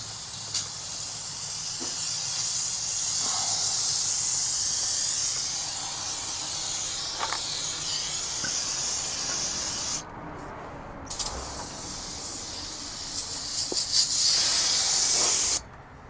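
Brake cleaner hisses from an aerosol can onto the brakes of a Freightliner FLD truck in a long, steady spray, pausing briefly once before a final loud burst.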